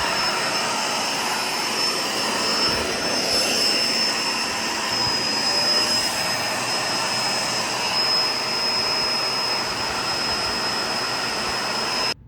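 Bissell and Shark budget vacuum cleaners run one after the other, a loud steady whooshing roar with a thin high whine on top, continuous and close, stopping abruptly at the end.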